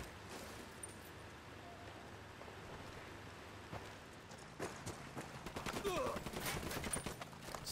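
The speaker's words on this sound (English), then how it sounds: "Stop fucking shooting me" Bursts of rapid video-game gunfire crackle through the second half, loud and clustered over a steady hiss of background ambience, with a voice briefly audible.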